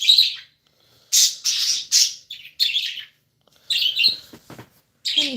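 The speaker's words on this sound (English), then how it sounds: "Bunch of the birds." Several birds call close by in loud, bright bursts of chirps and squawks, separated by brief silences, with a few clicks and a harsher call near the end.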